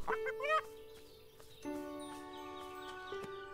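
Chicken clucking in the farming life sim Everdream Valley: a few short, close, tonal clucks and calls in a quick burst, then steadier sustained tones with small accents.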